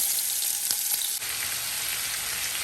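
Shrimp for a creamy garlic dish frying in a hot pan on lowered heat, giving a dense, steady, close sizzle that hisses continuously with a slight crackle throughout.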